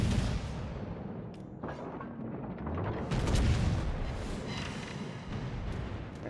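Naval guns boom during a video game battleship fight against an Iowa-class battleship, with several muffled heavy blasts and rumbling impacts over continuous low battle noise, with no speech.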